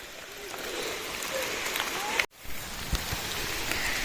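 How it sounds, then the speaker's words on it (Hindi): Dense, steady hiss of heavy rain pouring down, with a brief dropout midway, then the downpour continuing at the same intensity. "गाइस बारिश से देखो इतनी बुरी, ये पूरी भीग गई मैं भी"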